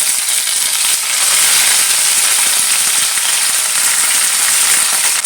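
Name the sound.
curry leaves and green chillies sizzling in oil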